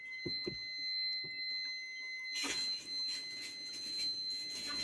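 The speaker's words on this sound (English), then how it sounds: "Sounds like this. It's the UPS." A UPS power supply gives off a steady high-pitched whine that holds at the same pitch through the whole stretch. A few soft knocks and rustles sit under it, and a louder broadband wash of room noise comes in partway through.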